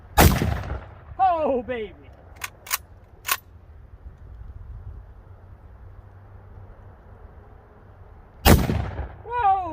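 Mosin Nagant rifle fired at a pumpkin outdoors, two loud sharp shots several seconds apart, each with a booming tail, followed by excited shouting and a few clicks from the rifle's action.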